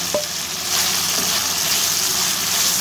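Chicken sizzling and frying steadily in a pan, a constant bright crackle that stays close and even from start to finish, with one faint short tap near the start and no talk.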